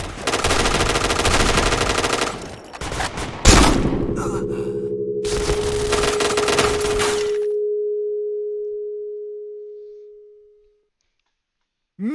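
Video-game gunfire crackles in rapid automatic bursts with a heavy shot near the middle. A single clear electronic tone then rings on alone and fades into silence.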